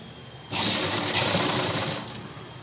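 A domestic sewing machine stitching salwar fabric runs in one close, steady whirring burst of about one and a half seconds, rising abruptly from a quiet room and stopping just as quickly.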